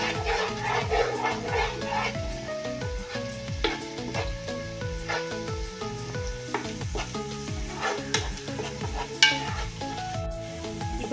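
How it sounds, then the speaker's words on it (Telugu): Steady sizzling of fish curry with sorrel leaves frying in a pan, with repeated scraping strokes of a spoon stirring through it at a regular rhythm, close and moderately quiet. "ఇట్లా కలుపుకోవాలి. ఇది కూడా కాస్త బాగా వేగాలి."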